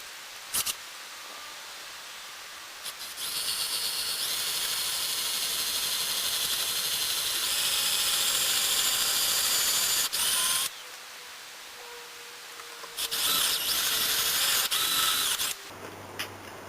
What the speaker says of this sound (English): and then I'm going to drill the holes